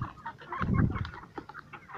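Free-range farm chickens clucking close by, several overlapping soft clucks and murmurs in a short burst, with no speech.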